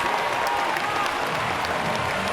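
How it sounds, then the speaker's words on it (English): A basketball arena crowd at a Singapore Slingers versus Macau Wolf Warriors ASEAN Basketball League game roars and applauds after a fast-break layup, a dense, steady wall of cheering filling the hall. "the crowd going berserk"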